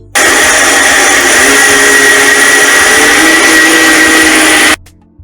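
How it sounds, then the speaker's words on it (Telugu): A mixer grinder blends soaked rice with green chillies into batter, a loud continuous close whine that runs steadily for several seconds and then cuts off abruptly. "సో ఈ రెండింటిని కలిపి ఇప్పుడు మనం మిక్సీ పట్టుకోవాలి"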